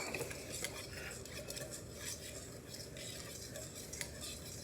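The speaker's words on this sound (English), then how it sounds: "you go ahead and whisk that up a little bit." Donut batter being whisked in a bowl, a steady scraping, clinking stir of whisk against dish running continuously at moderate, close range with no talk over it.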